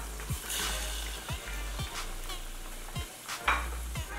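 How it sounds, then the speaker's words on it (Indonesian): Ground chilies stir-fried in a pan for a meatball penyet dish, giving a steady close sizzle broken by about seven sharp spatula scrapes and stirs at a regular pace, with no talk. "kita tumis bentar terus itu kita masukin cabai yang tadi udah diulek juga"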